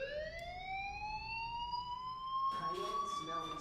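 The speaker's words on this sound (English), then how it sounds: "Hey, do you hear that fire alarm?" A fire alarm in Life is Strange sounds as a steady, slowly rising electronic tone held throughout, fairly faint, with a brief spoken voice cutting in near the end.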